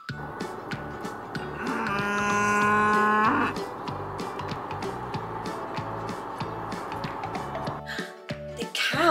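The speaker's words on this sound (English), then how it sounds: "The cow says moo." Cattle mooing on a children's farm-animal song track, with a long, loud, harmonic moo around two to three and a half seconds, set over steady music and shorter lowing sounds throughout.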